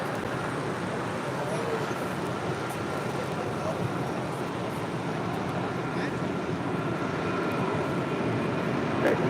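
A JetBlue Airbus A321 departing LAX for Fort Lauderdale sends up a steady, fairly distant jet roar that holds even and broad for the whole stretch, with faint airport ambience around it.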